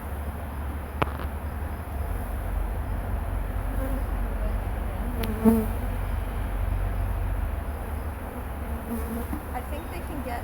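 Honeybees fanning at the entrance of a newly set up beehive, a steady close buzzing drone with individual bees passing near, continuous throughout with no talk.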